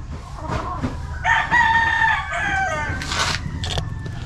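A broodcock rooster crows once in a clear, drawn-out call at moderate distance, followed by a few short clucks and barnyard noises.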